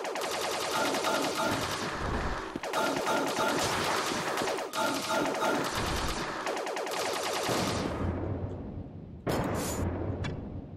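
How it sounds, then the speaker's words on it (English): Rapid gunfire from the side-scrolling platformer A.R.E.S. Extinction Agenda EX crackles loud and nearly continuous for about eight seconds, broken by short gaps, then tails off into quieter game noise and a final burst. "Then you shoot, like, weak spots and they break apart."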